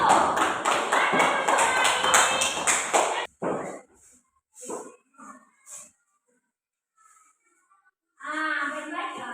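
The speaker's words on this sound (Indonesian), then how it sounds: "Sekarang tepuk tangan untuk Bapak" Students in a classroom clap together in a quick, rhythmic burst of about three seconds, then scattered taps and thumps follow before someone starts talking.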